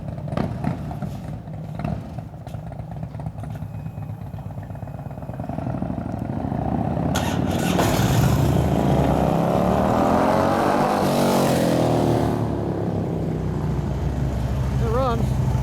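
A 2004 Harley-Davidson FLHT Twin Cam 88 touring motorcycle, just back from a cam tensioner bearing repair, running with a rough throbbing idle that swells into a louder passing roar and fades again.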